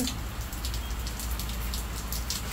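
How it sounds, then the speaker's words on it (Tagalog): Rain falls steadily outdoors, a dense, even patter of drops on surfaces that holds at a constant moderate level throughout. "I don't know, it's gonna rain like this."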